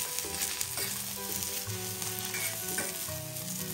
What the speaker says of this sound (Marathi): एक साईडने भाजून झाल्यावर त्या भेंडीला व्यवस्थित पलटी द्या